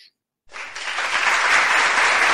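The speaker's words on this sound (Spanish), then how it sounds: "aplausos para Angelita, aplausos" After a brief silence, a burst of audience applause for a woman named Angelita rises quickly and holds, dense and steady to the end.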